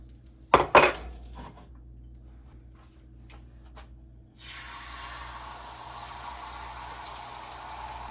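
Butter and scrambled eggs on a hot griddle: two sharp metallic clanks of utensils up front, then a steady loud sizzle that starts abruptly and carries on to the end.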